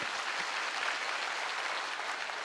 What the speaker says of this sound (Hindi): जोरदार तालियां होनी चाहिए ऐसी पद्धति के लिए।